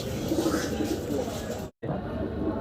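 Pigeons offered at an Eid sale, including Black Danish birds, coo softly a few times, close by over background noise, with a brief dropout near the end.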